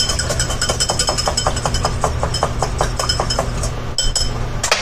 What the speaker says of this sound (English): But otherwise, you just whisk it.